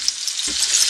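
Steaks fry in fat in a hot pan with a bright, close sizzle and crackle, and the fat is kept moving over the meat. A low thump comes partway through this very short burst.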